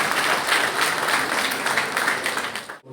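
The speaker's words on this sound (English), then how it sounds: "Shall we all welcome him with a round of applause" At a student felicitation programme, a crowd gives the chief guest a dense, continuous round of applause that holds steady and then cuts off abruptly.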